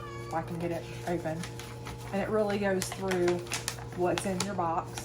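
A cat meows repeatedly, several drawn-out close meows scattered through the scene, while someone talks over them indoors with a low hum in the background.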